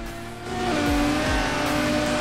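A Lotus race car in the Forza Horizon 4 racing game holds a loud, steady engine drone with rising revs and a brief rival car sweeping past.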